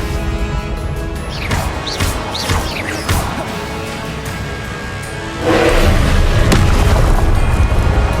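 Explosive Confringo spell blasts in Hogwarts Legacy, with several loud booming impacts and crashes in quick succession during combat, ending in a sustained heavy roar of rumbling destruction.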